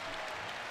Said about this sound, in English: Renew gets a loud applause exiting